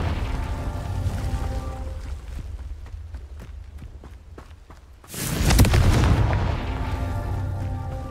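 Confringo blasting spell detonating in the Hogwarts Legacy video game: a run of evenly spaced, footstep-like thuds gives way to one sudden loud explosion, followed by a sustained roaring rumble.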